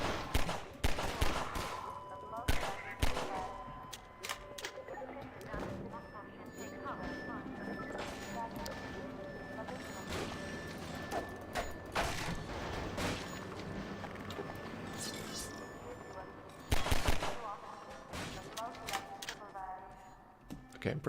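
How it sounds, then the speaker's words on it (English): Gunfire in Half-Life 2, shot from inside a cramped air vent: repeated sharp bursts scattered across the clip, with the heaviest cluster near the end, over steady background game noise. "fire a gun inside an air vent"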